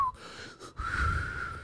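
Someone tries to whistle but produces only a breathy, airy tone, a wobbly thin whistle that breaks off briefly and then resumes as a steadier wheezy note, close and moderately loud with no talking.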